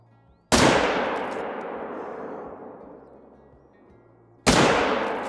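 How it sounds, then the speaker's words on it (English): Two heavy booming gunshots in a video game, spaced about four seconds apart, each a loud sharp blast with a long rumbling decay, no voices. "As we're currently shooting them with the... 300."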